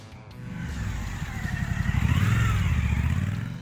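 A Suzuki V-Strom 1050 motorcycle engine revving up close and loud, a rough throbbing rumble that builds over a few seconds, with no talk.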